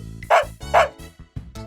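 A dog barks twice, loud and close, then lets out a few shorter, softer yips.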